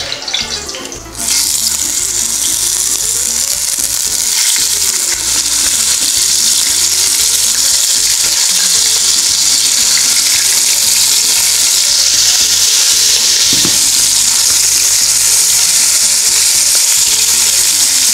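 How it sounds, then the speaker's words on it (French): Lobster tails sauté in a little oil in a pan, giving a loud, steady sizzle and crackle that runs nonstop after a brief quieter start, with no voices. "On va mettre un petit peu d'huile pour pouvoir faire revenir un tout petit peu les langoustes"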